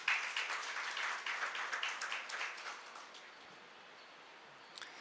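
An audience at a talk session applauds with dense, fairly distant clapping that fades out over a few seconds, leaving quiet room tone.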